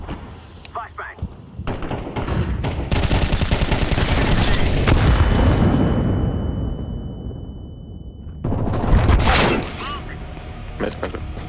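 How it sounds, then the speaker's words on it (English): Flashbang and gunfire in a video game: a dense burst of rapid, sharp gunshots builds into a loud, ringing blast that fades slowly and is followed by more shots, with voices calling out over it. "Flashbang."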